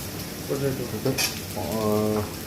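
Ginger and green chillies frying with softened onion in a pan, a steady sizzle running throughout with a brief scrape or stir partway through.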